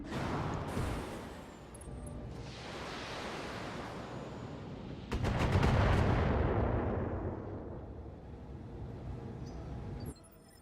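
Autocannon fire from mechs in the BattleTech video game, deep rumbling booms over a sustained roar that swells to a louder blast midway and then slowly fades, with no talking.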